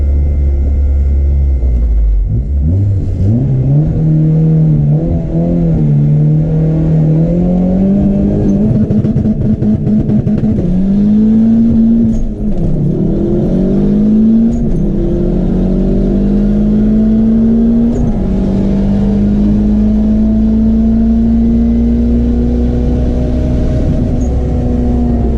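Car launching down a drag strip in a pass against a Corvette, engine revving hard and climbing through several gear shifts, loud and close for over twenty seconds with no talk.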